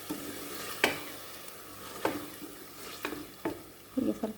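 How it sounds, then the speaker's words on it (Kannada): Masala frying in a pan for chicken biryani, a soft steady sizzle broken by several periodic spoon scrapes and stirs, fairly quiet and without speech. "ಅದನ್ನು ಸೇರಿಸಿ ಚಂದದಲ್ಲಿ ಫ್ರೈ ಮಾಡಬೇಕು"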